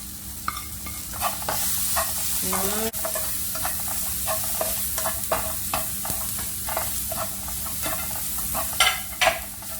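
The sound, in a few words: onion, capsicum and tomato sautéing with spices in a pan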